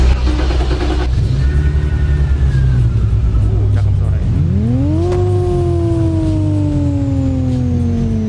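A remodeled BMW E36's engine is started and revved: a loud idle rumble, then the engine note climbs sharply into a high rev whine that slowly sags, all close to the car.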